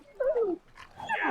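A dog in the fantasy video game Dragon Age: Origins gives a short, close snarling growl, then a brief whining yelp after a pause, all heard alone with no talking.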